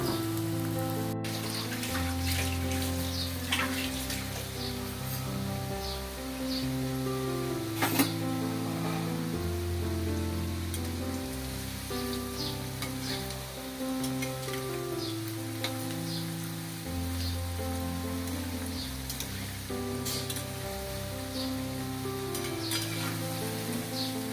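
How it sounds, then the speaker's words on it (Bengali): Raw jackfruit kofta balls fry in oil over a medium flame, a steady, close sizzle that lasts throughout with scattered crackles and faint scraping now and then. A tonal background hum runs beneath, and no voice is heard. "আর এটা আমি মিডিয়াম আঁচে ভাজবো।"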